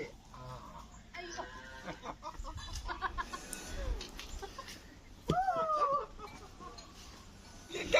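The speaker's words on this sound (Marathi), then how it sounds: "त्यांनी कोंबड्यांना थोडेसे दाणे टाकायला आणले म्हणजे त्या कोंबड्या जमतात" Village hens cluck and squawk as an elderly man scatters grain for them outdoors, several birds calling close by in short bursts over a soft background.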